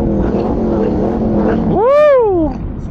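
A motorcycle engine revs hard at close range, its rising and falling whine sweeping up then down over about a second, following a steady low rumble on a group charity ride in Las Vegas.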